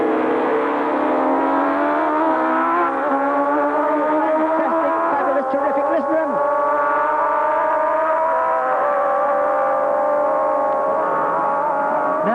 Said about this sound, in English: he streaks to victory wheel to wheel with John Surtees MV.